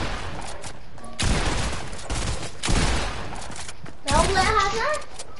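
Gunfire in the Fortnite video game, coming in three loud rattling bursts over several seconds while young voices talk.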